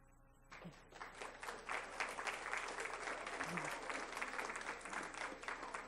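Applause breaks out at a school board meeting, a dense, steady round of clapping from a roomful of people that starts abruptly and holds full for several seconds, with faint voices mixed in.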